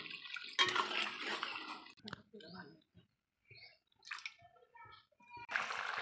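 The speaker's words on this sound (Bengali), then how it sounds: "কষানো হয়ে গেছে, এবার জলটা দিয়ে দিচ্ছে।" Water is poured into a pot of sautéed rice, making a close, splashing rush in short bursts with quiet gaps between them, and a voice can be heard faintly.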